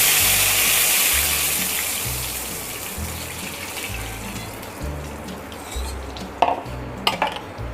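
Kadhi batter poured into a hot tempering in a pot over low gas and stirred, a steady rushing sizzle and liquid churn with a low rhythmic hum and a few sharp spoon clinks near the end.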